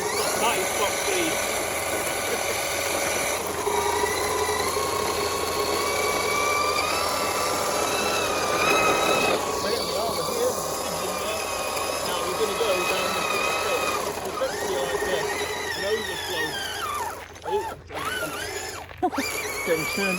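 A Tamiya TT02FT quadtrack RC car on a 5,000 mAh NiMH battery runs flat out, its electric motor whining in shifting high tones with rattling drivetrain, fading and surging, with brief cutouts near the end.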